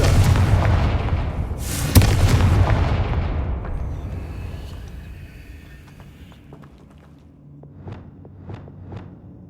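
A Confringo spell explosion in Hogwarts Legacy, a loud booming blast with a rumbling tail that fades over several seconds, followed by a few smaller sharp pops.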